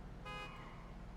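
A single car horn toot over steady low engine rumble, a short tonal blast that fades quickly.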